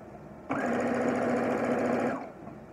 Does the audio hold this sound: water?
no